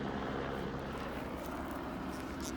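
A helicopter flies overhead, heard as a faint, steady broadband rotor and engine rumble in the background with no talk.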